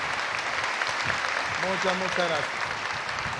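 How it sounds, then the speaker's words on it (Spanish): Applause from the audience at a Colombian presidential workshop event, broad steady clapping filling the clip under a man's brief spoken thanks. "quiero pedirles a todos ustedes un aplauso"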